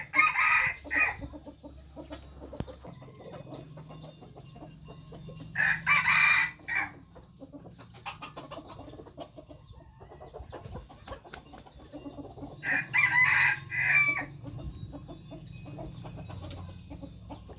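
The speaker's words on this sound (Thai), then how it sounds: "มีแต่ไก่อ่อนทั้งเบิดเนาะ" Young chickens at a farm, a few cockerels giving loud, repeated crowing calls in three separate bursts, with softer clucking and scattered fowl noises between them, fairly close, no talking.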